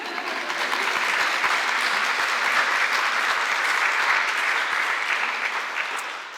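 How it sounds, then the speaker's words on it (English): A crowd at a nursing white coat ceremony gives sustained, even applause that swells slightly and then tapers off near the end, with no voices over it. "Thank you all so much for that applause"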